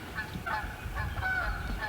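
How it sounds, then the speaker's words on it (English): A goose honks repeatedly in a steady run of nasal calls, moderately close, outdoors during a Tennessee turkey hunt, with low rumbling background noise and no talking. "Sounds like a goose to me. That was a goose."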